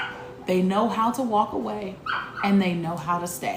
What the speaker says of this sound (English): if y'all can hear her barking